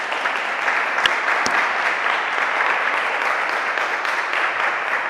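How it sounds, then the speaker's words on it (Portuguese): A church congregation applauds during a sermon, a steady, full burst of clapping with a couple of sharp louder claps near the start and no speech over it. "Você pode aplaudir a Jesus Cristo por isso?"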